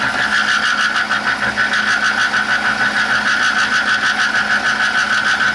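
A metal lathe takes a light finishing cut, giving a steady loud squeal with a sustained high ringing tone and continuous rough chatter throughout, with no talking.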